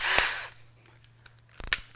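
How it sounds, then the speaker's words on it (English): A cordless drill driver whirs briefly as a bit is tightened into its chuck, a short loud burst, then quiet with faint clicks before a second, shorter buzzing burst. "tighten our drill bit into the drill driver"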